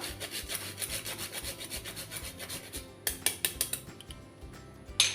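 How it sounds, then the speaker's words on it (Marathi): Nutmeg scraped against a grater over a ladoo mixture of wheat flour makes a rhythmic rasping, steady at first, then sharper distinct strokes, close and alone. "थोडंसं जायफळ ते सुद्धा थोडंसं खिचून घालूया"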